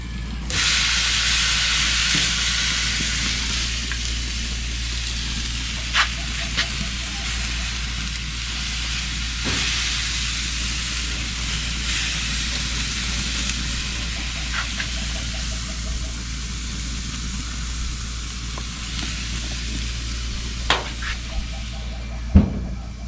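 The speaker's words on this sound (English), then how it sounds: "We're gonna throw it on the grill now for about 15-20 minutes each side" Marinated pork sizzles on a grill, a steady broad hiss with faint crackles and a few sharp pops, close and continuous throughout without speech.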